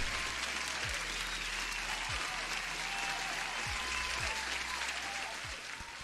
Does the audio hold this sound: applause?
yes